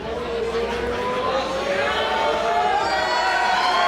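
A wrestling crowd at a Beyond Wrestling match between Warhorse and Bobby Orlando roars with steady, loud cheering, a broad wash of voices that continues without pause while a commentator talks over it.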